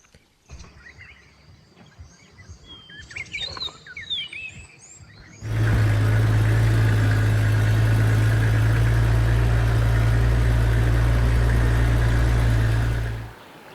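A safari vehicle's engine starts up and drives along a riverside track in African bush, a loud, close, steady drone that follows several seconds of chirping birds.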